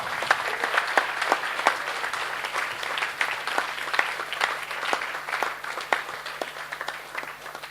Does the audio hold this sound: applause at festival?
yes